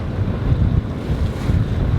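A sailboat under sail on open water, with steady wind rushing across the microphone and waves washing along the hull in a continuous, fairly loud churn, no voices.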